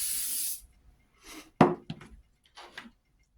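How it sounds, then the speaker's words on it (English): Mastic adhesive sprayed from an aerosol can while scratch-building a 1/32 scale Gulf sign: a loud half-second hiss opens, then quieter short spray bursts and a few light clicks and taps of handling follow. "get my mastic again, give it a quick spray"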